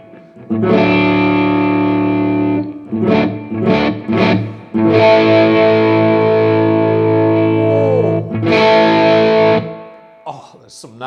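Electric guitar on the middle pickup position played through a Laney Lionheart L20H amp with just a cable, ringing out sustained distorted chords and short stabs, loud and close, with a brief quiet tail at the end.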